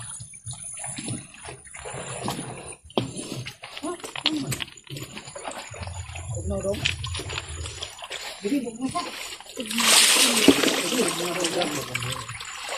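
People bathing at a well in the Philippines splash and pour water, with sloshing and spattering running throughout and a louder burst of splashing near the end, under people talking.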